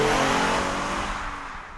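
2015 Acura TLX in Sport Sharp mode accelerating hard, a loud, close engine roar that holds strong then eases slightly over a short burst, no speech.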